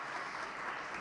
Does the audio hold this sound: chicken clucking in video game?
no